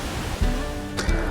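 Ohiopyle Falls heard from an observation deck, a dense steady roar of rushing water filling the air at close range with no voices.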